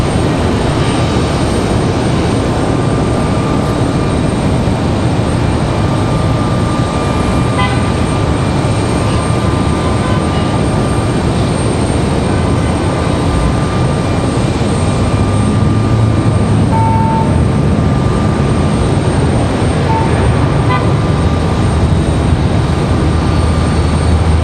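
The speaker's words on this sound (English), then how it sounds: "we've got American from Dallas on final" An American Airlines airliner from Dallas on final approach to Raleigh-Durham International Airport produces a sustained, loud engine roar that holds steady for the whole stretch, with no talk over it.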